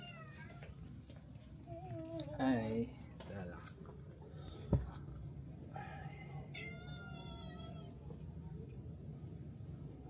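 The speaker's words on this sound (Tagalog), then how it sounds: "So, this is the cat." A stray cat meows several times, close and fairly soft, with one drawn-out plaintive cry and a few shorter mews. A person talks briefly nearby and there is a single sharp tap partway through.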